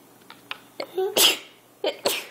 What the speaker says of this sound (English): What do you say when mommy sneezes?